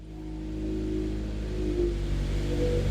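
A turbocharged Mazda Miata project car stripped of its body parts revs and accelerates on a test drive, the engine drone loud and close, climbing steadily in pitch with a brief shift around the middle.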